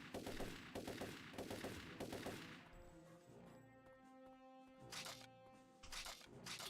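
Gunfire from a weapon in the video game Turok 3, a rapid burst of sharp repeated shots up front, then a quieter lull with ringing tones and a few more cracking bursts later.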